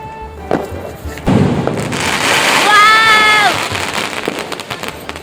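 A Diwali firecracker goes off in rainy weather: a sharp, close thump, then a hissing burst with a rising whistle-like tone, over steady patter and background voices.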